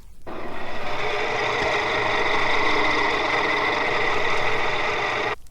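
An industrial gear drive power transmission running steadily at 1500 RPM gives a continuous, even mechanical whir and hum with a faint rhythmic pulse, heard up close and alone before cutting off abruptly.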